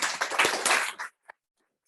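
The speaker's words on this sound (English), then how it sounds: "Let's give them a round of applause, guys." A short burst of clapping from a small group, dense for about a second, then trailing off into silence with one last clap.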